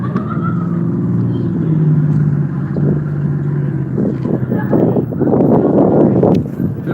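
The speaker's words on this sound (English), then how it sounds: "Pardon me while this car goes by." A car passes close by on a street in Denver, its low engine and tyre rumble swelling and rough in the second half, with wind noise on the microphone.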